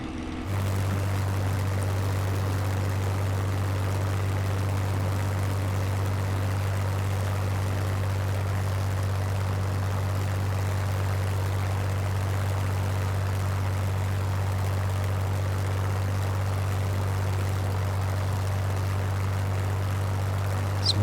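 A Royal Aircraft Factory SE 5 biplane engine drones at a constant low pitch during takeoff in Flight Simulator 2020, a loud steady hum running unbroken throughout.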